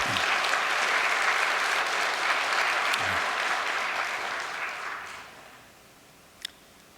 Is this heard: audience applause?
yes